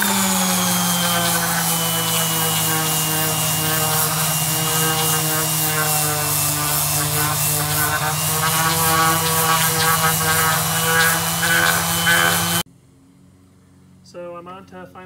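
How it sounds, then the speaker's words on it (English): A random orbital sander with 100 grit paper buzzes steadily over pine wood shelves, a loud continuous whine that cuts off abruptly near the end, leaving a quiet moment with faint handling noises. "I'm just taking my random orbital sander here with the 100 grit and just giving it a quick once over"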